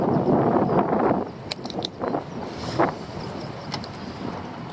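Wind buffets outdoors by the sea, a strong rumbling gust that fades to a lighter steady blow, with scattered small knocks and clicks nearby.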